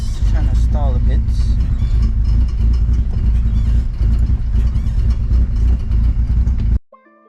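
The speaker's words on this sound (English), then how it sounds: "It's going up in RPMs and everything. Oh, it's trying to stall a bit." Car with a freshly repaired clutch, engine loud and close as it revs up and sags as if about to stall, a rough steady drone that cuts off abruptly near the end, people talking over it.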